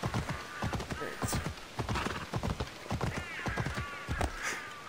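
Rhythmic clip-clop of a galloping horse in Assassin's Creed Odyssey, close and continuous, with a brief neigh and someone talking over the hoofbeats.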